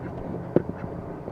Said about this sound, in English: It's Henry, the range duck